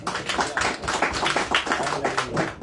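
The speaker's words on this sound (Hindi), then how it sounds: "जोरदार ताली बजा दे" A church congregation at a prayer service at Peace Chapel AOG Church in Sigatoka claps loudly and continuously, a dense, busy patter of many hands with no gaps.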